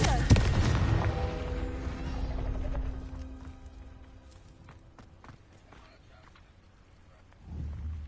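A Confringo fire spell blast in Hogwarts Legacy on PS5 hits with a loud, booming burst that decays into a rumbling tail, followed by a quieter stretch and a second low swell near the end.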